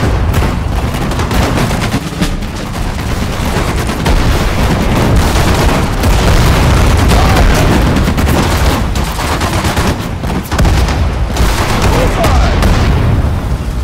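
Gunfire and artillery fill a battle in the video game Sudden Strike 4, set in the Normandy invasion. Dense machine-gun bursts and booming blasts run loud and continuous throughout, with commands spoken over the din.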